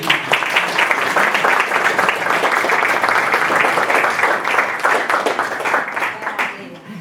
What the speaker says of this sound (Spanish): Bueno, aplausos entonces.